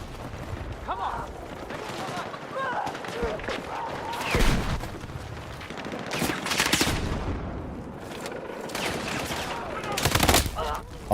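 Gunfire in a multiplayer shooter video game: several loud bursts of shots crack out at intervals over steady battlefield noise, with voices talking throughout.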